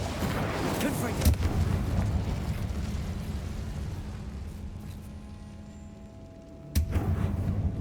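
Spell blast of the Confringo explosive curse in Hogwarts Legacy, a loud rumbling burst that swells and slowly fades, then a second sharp hit near the end over steady game noise.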